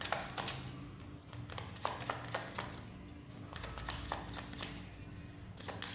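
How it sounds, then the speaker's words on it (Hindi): Tarot cards being shuffled by hand, a quiet steady riffle of soft repeated card flicks and slaps continuing throughout, close and faint with no talking. "मैं जब तक शफल कर रही हूँ आपने क्या करना है, सवाल पूछना है।"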